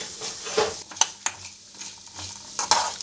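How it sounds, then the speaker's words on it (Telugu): Peanuts, urad dal, fenugreek and cumin fry in oil with a soft, continuous sizzle while a spoon scrapes and stirs the pan in several close strokes. "కొంచెం వేగనివ్వాలి."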